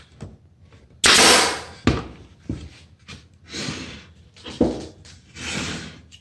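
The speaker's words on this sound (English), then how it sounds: "Shooting the staples." A staple gun drives staples into the wooden frame of a DIY solitary bee barn, giving a loud sharp snap followed by several lighter thuds and clatters of handling close by.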